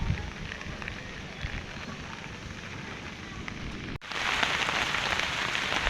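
Steady monsoon rain pours down in San Rafael, Bulacan, hissing on surfaces, and grows noticeably louder and heavier partway through. No voices are heard.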